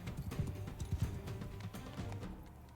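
Horse hooves in the Mount & Blade II: Bannerlord video game make a quick run of close clip-clop beats at a moderate level that thin out and fade toward the end.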